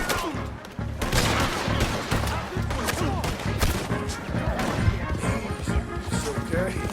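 Gunfire in Red Dead Redemption 2 during a chaotic shootout: dense, continuous volleys of shots and impacts crash over one another for the whole stretch, loud and close, with shouting voices mixed in.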